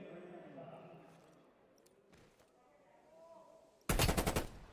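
Gunfire in a competitive tactical shooter match: a sharp, loud burst of rapid shots erupts near the end, following a quieter stretch with a caster talking over faint game ambience.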